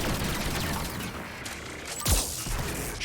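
Dense, rapid weapon fire from the Mass Effect 3 video game, a loud, continuous barrage of shots with a heavy impact near the end, without talk.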